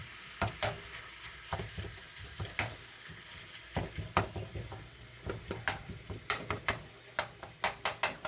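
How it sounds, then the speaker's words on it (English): A utensil chops and stirs food in a pot while homemade pizza sauce is made, giving sharp irregular knocks and clacks that quicken toward the end over a faint background. "Just keep stirring and chopping."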